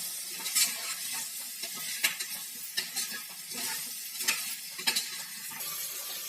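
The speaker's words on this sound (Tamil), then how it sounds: "இதை நல்லா கிளறி விட்டுருவோம் மசாலாலாம் பலாக்காயில் மிக்ஸ் ஆகட்டும்" Jackfruit and biryani masala are stirred in a pan for Kerala jackfruit biryani, a low sizzle punctuated by repeated scraping and tapping of a spoon against the pan at an uneven pace.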